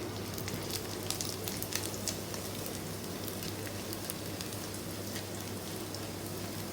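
Onion vadagam tempering in hot oil sizzles and crackles steadily, a dense close frying hiss with scattered pops and no talk.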